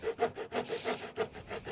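A small Victorinox Fieldmaster pocket saw cuts through a thick branch in steady back-and-forth strokes, roughly six rasping pulls in under two seconds, close and fairly quiet.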